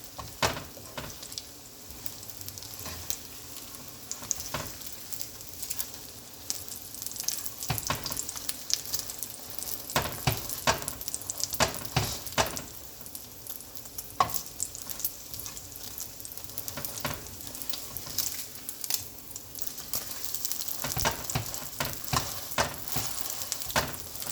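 Shrimp and chicken fried rice fries in a non-stick pot, giving a steady, close sizzle with bursts of crackling and stirring scrapes running throughout, with no talking.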